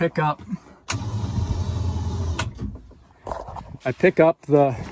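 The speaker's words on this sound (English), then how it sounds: "activate the winch, pick up the front snowblower" An electric winch on a snowblower rig hoists the front snowblower, giving a steady mechanical whir for about a second and a half, framed by someone talking before and after.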